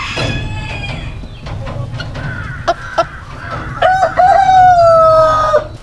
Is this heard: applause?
no